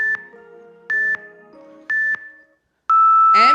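Electronic workout timer buzzer at the end of a dumbbell strength interval, sounding three short, loud, evenly spaced beeps followed by a longer, higher final tone.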